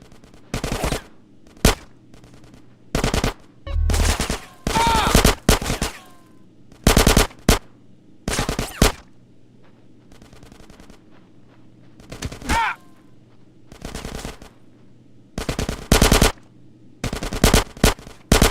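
Gunfire in the video game GTA San Andreas: repeated sharp bursts of automatic weapon fire and single shots, spaced irregularly over a quiet background, with faint grunts between bursts.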